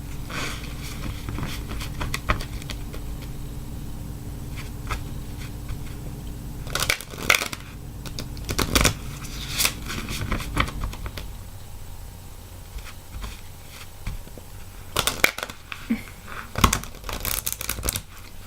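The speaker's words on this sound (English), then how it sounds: "I'll start shuffling" A new, still-stiff tarot card deck being shuffled by hand: repeated bursts of crisp riffling and flicking cards separated by quieter pauses, close and fairly soft, with no talking.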